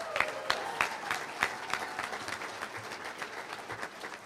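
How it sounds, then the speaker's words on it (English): A luncheon crowd at a touchdown club gives a round of applause, a dense patter of many hands with a few sharp, close claps standing out, steady for several seconds before tapering off. "let me hear a round of applause if you enjoyed Mike Singletary"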